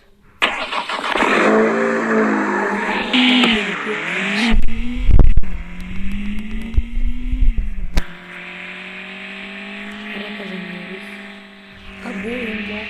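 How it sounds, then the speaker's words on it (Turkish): A car drives in a video game, its engine droning at a steady pitch with revving swells and shifts, loud and close, with someone talking over parts of it. "Arabamızı sürelim ve para kazanalım."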